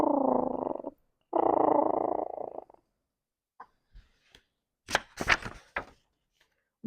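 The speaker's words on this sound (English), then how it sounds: "They were making quiet, purring sounds." Kittens curled in a basket purr softly in two long steady rumbling stretches, followed by a few faint clicks and small noises in near silence.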